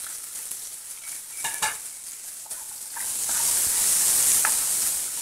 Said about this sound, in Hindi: अब इसे हम गोल्डन ब्राउन होने पर प्याज को भून लेंगे